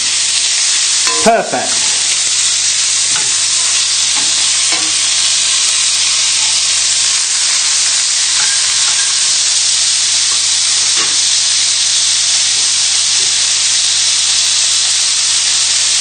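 Mint crusted lamb sizzles steadily in a hot pan, a loud continuous frying hiss with a brief clatter early on as it is turned; a voice speaks once briefly.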